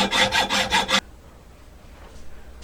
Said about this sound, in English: I'm just using a hacksaw to cut the bar